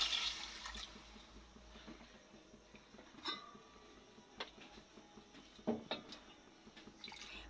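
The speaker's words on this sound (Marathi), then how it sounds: "मी आता 2 ग्लास पाणी टाकलेलं आहे।" Water is poured into a spicy Maharashtrian fish curry with splashy gurgling bursts. A few separate pours and drips are heard up close against quiet kitchen background, with no talk.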